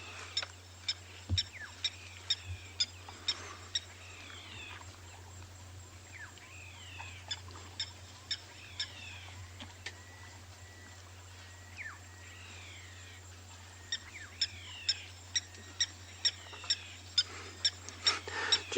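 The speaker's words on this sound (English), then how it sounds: "This tapping sound that almost sounds like metal hitting each other, that's going to be your blacksmith lapwing" Repeated sharp metallic tink calls of a blacksmith lapwing ring out in bursts amid other birdsong on an afternoon safari at Ngala Private Game Reserve, over a steady low hum, with no talk.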